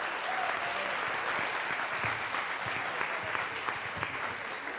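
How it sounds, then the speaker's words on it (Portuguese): Sustained applause fills a conference audience at an open lecture, a dense steady wash of many hands clapping at even loudness from start to finish, with no voices rising above it. "acho que a gente podia aplaudir o Frechete."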